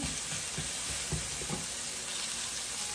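Peppers softening as they fry in olive oil, a steady low sizzle with a few soft stirring knocks in the first half, then an even hiss.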